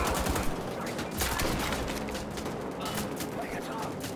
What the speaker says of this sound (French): Je tire dans la tête, pourtant.